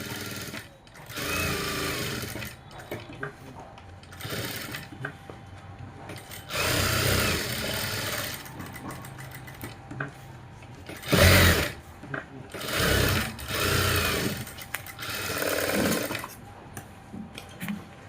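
A sewing machine stitching a front neck border, running in several bursts of fast rhythmic whirring with pauses between, close and fairly loud.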